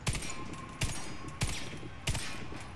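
Four heavy bursts of M249 Para Gold machine gun fire in the shooter game Warface, evenly spaced under a second apart, each a sharp loud crack with a short tail over steady background noise.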